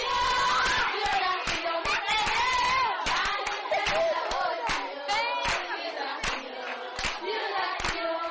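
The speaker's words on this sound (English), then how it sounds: "the younger ones make life unbearable by singing and clapping hands" Young girls in a school dormitory singing loudly together while clapping hands in sharp, regular beats, a close, continuous, lively sound throughout.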